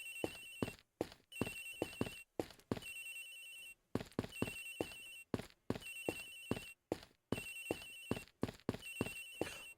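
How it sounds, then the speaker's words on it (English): Phone ringtone from the video game Ace Attorney Investigations, repeating electronic bursts in a steady rhythm with short gaps, loud and close, with no talking over it. "Agent Hicks's phone! It's ringing from somewhere, sir!"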